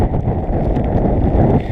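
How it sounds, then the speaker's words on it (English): Strong wind buffets the microphone on an exposed high campsite in Dolly Sods Wilderness, in a loud, continuous low roar with gusty fluctuations and no talking. "This is so windy up here."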